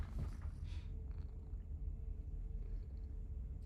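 A house cat purrs close by, a soft, low continuous rumbling with a steady pulsing texture and nothing else over it.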